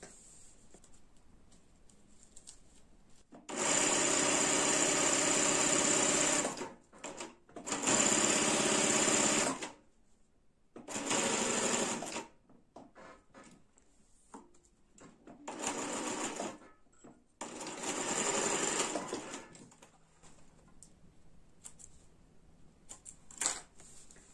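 Several bursts of a sewing machine stitching a bag, loud, close and fast, each running a few seconds with quiet pauses between, the longer runs early and shorter ones later.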